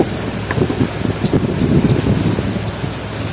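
Rain falls during an island boat trip off Cagbalete Island, a steady dense wash of noise with gusty wind buffeting the microphone and a few brief sharper spatters, continuous and fairly loud throughout.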